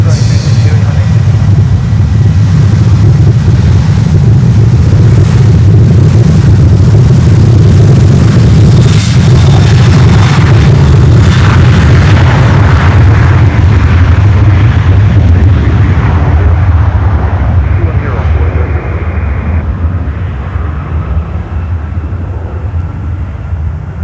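A Boeing 737-800 cargo jet takes off at Miami, a loud, sustained engine roar that builds and holds close by, then slowly fades and thins toward the end, with no talk over it.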